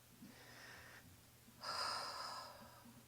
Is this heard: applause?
no